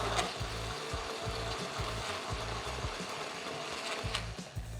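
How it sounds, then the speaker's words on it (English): A blender whirs continuously as it mixes mustard powder, celery powder, salt and vinegar for homemade mayonnaise, with a steady loud motor drone and rhythmic low churning pulses throughout, close up and without speech. "Blend this up."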